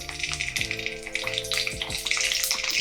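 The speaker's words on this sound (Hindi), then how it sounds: "ऑयल गरम हो गया है, हम इसमें मिर्ची रख देंगे।" Green chillies are laid into a small amount of hot oil in a kadai, producing a bright, continuous hissing sizzle with bubbly crackle over a faint tonal background.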